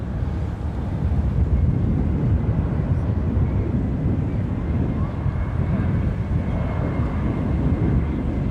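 An American Airlines airliner takes off at DFW Airport, its engines a steady, broad, loud roar that holds constant throughout with no pauses.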